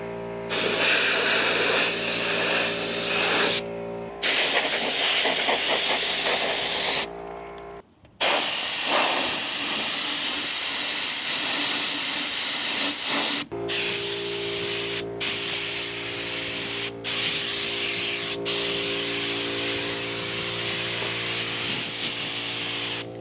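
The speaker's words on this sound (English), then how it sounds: "We're going to see if we can use the compressed air to get rid of all this stuff." Compressed air hisses loudly and steadily as it blows debris out of a cabin. The long roaring blasts stop briefly several times, and one quieter, rougher stretch sits in the middle. Nobody talks.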